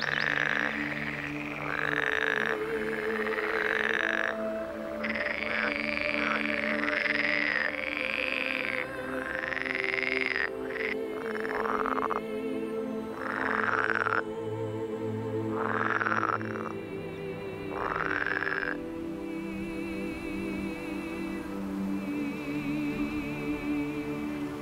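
Frogs croak in a dense chorus, with repeated loud, resonant calls pulsing every second or two over a steady background of many smaller croaking voices, and no talk.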